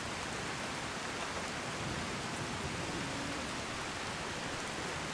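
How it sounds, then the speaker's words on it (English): Steady rain falling in the Skyrim video game, a dense continuous hiss of rainfall that stays uniform and moderately loud throughout, with no other sounds standing out. "standing out here in the rain"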